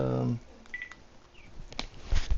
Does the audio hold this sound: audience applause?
no